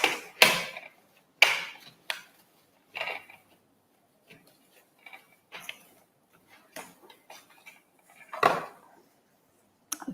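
A knife cuts fresh cucumber into cubes on a board, giving sharp, irregular chopping taps, some loud and some faint, with quiet gaps between them and no voices.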